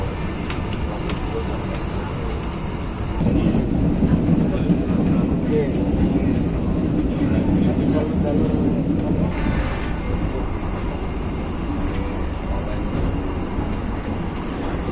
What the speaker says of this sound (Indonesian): kereta api Blambangan Express kembali diberangkatkan dari stasiun Kalistail